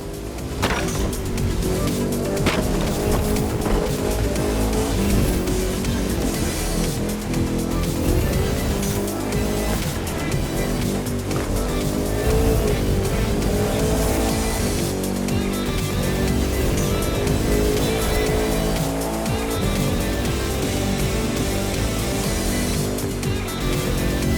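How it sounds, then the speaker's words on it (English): Race cars in The Crew 2 thundering across an antique covered bridge, a loud, continuous engine roar that holds steady for the whole stretch with no voices over it. "The most modern cars in the world thundering their way across an antique"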